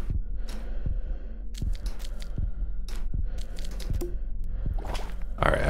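Low-health heartbeat cue in the video game Tower of Mask: a steady series of deep, evenly spaced thumps, about one per second, layered over a busy game soundscape with no talking.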